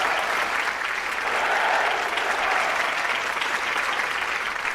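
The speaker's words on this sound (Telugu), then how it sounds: "చప్పట్లు కొట్టండి." A studio audience applauds at a televised talk show, a dense, steady wash of clapping that holds at full strength for several seconds without fading, with no speech over it.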